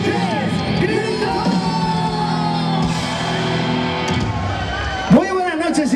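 Concert crowd at a live orchestra show in Silleda, Galicia, shouting and yelling together on cue, a loud sustained roar of many voices with whoops and cheers rising over it.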